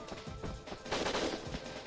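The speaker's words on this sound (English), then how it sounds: "hopefully dodging their gunfire" Guards' gunfire in the N64 video game WinBack, a dense run of rapid shots that swells louder partway through amid game sound, with no talking.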